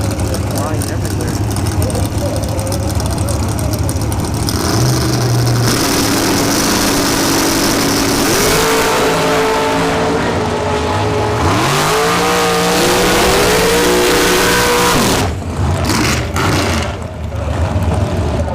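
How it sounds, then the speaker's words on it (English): Dragsters race at an NHRA points bracket finale at a Florida drag strip. Engines roar loudly and continuously, rising in pitch as they accelerate down the track, with an announcer talking over them. "And the dragster takes the win"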